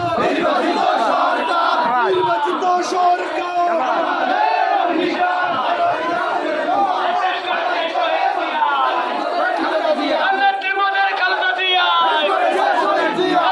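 Dense crowd chanting political slogans in unison at a rally, loud and continuous throughout, with rhythmic shouted phrases and overlapping voices close by.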